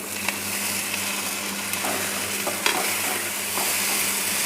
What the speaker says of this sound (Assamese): আৰু এতিয়া মই এইখিনি এনেদৰে ফ্ৰাই কৰি থাকিম।